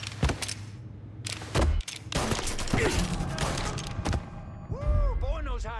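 Video game gunfire, a quick burst of sharp shots and clattering impacts followed by denser rapid fire and mechanical whirs, loud and close, with players talking over it.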